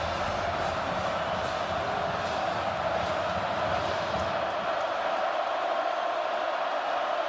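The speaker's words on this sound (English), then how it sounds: "Crowd coming to life on a 3rd and long for Baylor." Stadium crowd at a Baylor at Kansas State college football game in Manhattan roars on a third-and-long, a steady, loud wash of cheering and noise that stays dense throughout.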